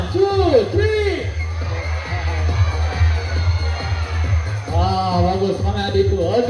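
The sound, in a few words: crowd of children shouting loudly on cue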